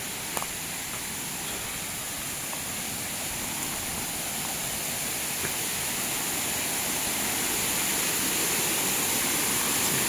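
Steady broadband rush of stream water flowing from a spring in a village area where crabs are caught, continuous and fairly close, swelling slightly toward the end with no talk.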